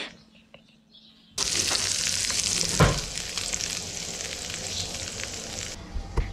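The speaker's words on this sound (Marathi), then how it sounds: "इथे मी ना आता जिरं आणि ना मोहरीचा तडका देऊन घेतला आहे" Cumin and mustard seeds tempering in hot oil, a loud steady crackling sizzle that bursts in after a quiet start, with a sharp pop or two, then carries on evenly and alone.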